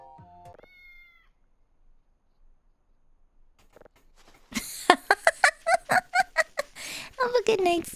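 A cat meows repeatedly in the Voices of the Void video game, a quick run of loud, close calls in a steady rhythm during the second half, after a brief tonal game sound and near silence.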